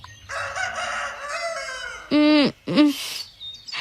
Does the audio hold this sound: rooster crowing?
yes